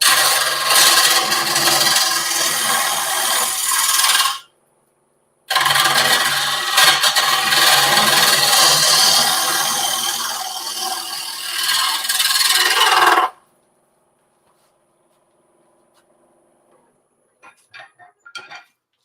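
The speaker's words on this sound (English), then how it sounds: "I got into that resin right there with my gouge" A woodturning gouge shears off resin on a wood craft piece, giving loud, continuous rasping scrapes in two long bursts separated by a brief pause, followed by quiet and a few faint clicks.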